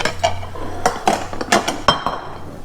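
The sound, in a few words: warm plates taken out of a microwave, clinking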